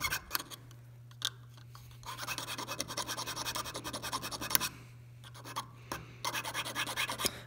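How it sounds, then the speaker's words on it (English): Rasping strokes of a hand file smoothing and rounding the cut edge of a metal ring shank, a steady run of scratchy passes with brief pauses in between, close and fairly quiet under a faint constant hum. "So I'm just lightly filing it"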